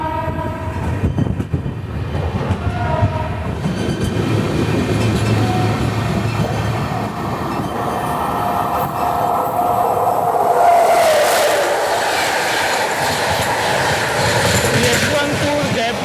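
The Mumbai Hyderabad SF Express rolls along with a loud, rumbling clatter of railcars, and a horn sounds partway through before the running noise continues steadily to the end.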